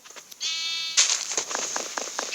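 A sheep in the video game Minecraft gives one clear, wavering bleat, followed by a brighter game sound and a scatter of soft clicks and footsteps.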